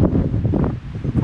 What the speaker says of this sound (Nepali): हावा कस्तो चलेको यार चाहिँ क्या बवाल रहेछ यहाँनिर